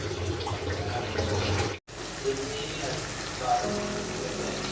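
A spice paste for a chicken liver, gizzard and feet curry fries in a pan with a continuous rain-like sizzle. It is close and fairly loud, breaks off briefly, then resumes with a few small pops.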